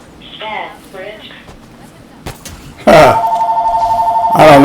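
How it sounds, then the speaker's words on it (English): A phone rings with an incoming spam-risk call during Halo Infinite campaign gameplay. A loud, steady electronic ringtone with a pulsing warble starts partway through and continues to the end, after a stretch of talking and quieter game sounds. "I'm getting a spam risk phone call right now."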